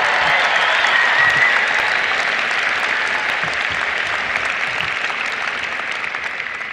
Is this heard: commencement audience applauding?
yes